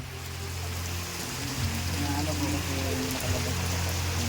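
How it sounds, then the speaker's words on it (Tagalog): Heavy rain pours down in a steady, dense hiss that stays loud and even from start to finish, with a low hum running underneath. "Umuulan, ang lakas ang ulan."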